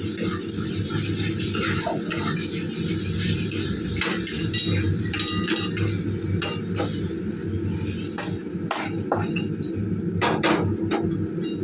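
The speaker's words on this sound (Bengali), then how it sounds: "ভালো করে ভেজে নিচ্ছে তো দেখো গাই মশলা কষা হয়ে গেছে" Spice paste for khichuri fries and sizzles in a pan while a spoon stirs it. A steady sizzle runs throughout, and repeated scraping and clinking of utensil against the pot come through close and clear.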